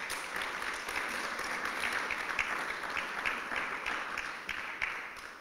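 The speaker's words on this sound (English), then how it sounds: "Big round of applause for Judith." Steady, moderately distant applause fills a guide dog graduation ceremony, many hands clapping evenly throughout with no voices standing out.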